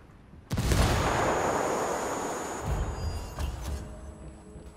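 A frag grenade detonates in Ghost Recon Wildlands with a sudden loud blast, followed by a long rumbling decay and a few smaller thuds and debris impacts as it fades.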